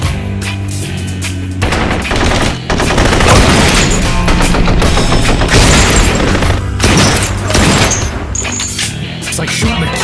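Dense, loud gunfire in the Blue Estate video game: rapid machine-gun bursts and heavy booming shots nearly nonstop, with a brief dip before the barrage resumes over a music and effects bed.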